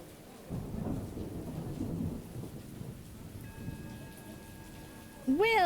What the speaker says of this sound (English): Oh yeah, I love thunder and lightning.